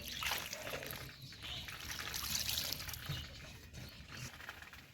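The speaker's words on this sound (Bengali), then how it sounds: "সিদ্ধ হতে যতটা জল লাগবে সেই অনুযায়ী জল আমি এই বাটির এক বাটি দিয়ে দিব" Water pours into a bowl of pumpkin and shrimp curry, a soft continuous trickle and splash, faint and close, lasting throughout.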